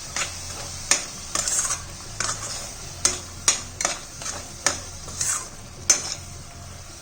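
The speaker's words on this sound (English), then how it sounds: "Now we'll mix everything." A spoon stirs a thick coconut and jaggery mixture in a pan for laddu, scraping and clinking against the metal in repeated, fairly close strokes with a faint sizzle underneath, and no talking.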